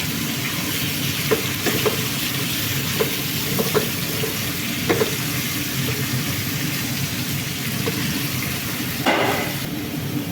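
Tomato paste stirred into maraq kofta in a sizzling pan: a loud continuous fry with a spoon scraping and occasional clicks against the pan in an irregular rhythm.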